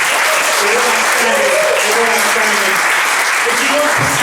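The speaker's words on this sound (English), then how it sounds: "a round of applause for all our performers," Audience applause for the performers at a live gig, loud and sustained throughout, with voices and cheers mixed into the clapping.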